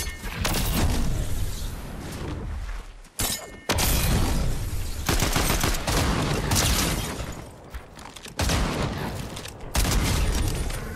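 Gunfire in Fortnite comes in heavy, rapid bursts of loud cracking shots, broken by a few brief pauses, up close and dense throughout with no voices.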